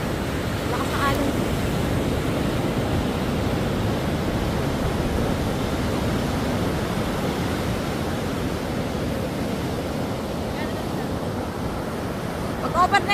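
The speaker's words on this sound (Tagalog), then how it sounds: "Lakas na alon." Steady roar of ocean surf at Mauban, Quezon, with strong waves breaking continuously, loud and close, with wind noise over the microphone and no talking.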